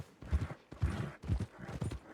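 A horse's hooves clip-clop at a steady walking rhythm near stables in a video game, four evenly spaced, moderately close footfalls with no speech.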